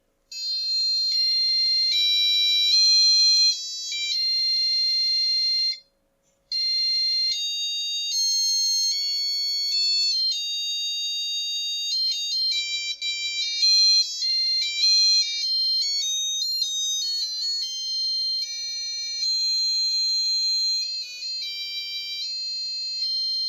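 A buzzer on a Deneyap development board beeps out the Turkish national anthem, a loud, steady series of shrill electronic tones with one brief pause, and no voices.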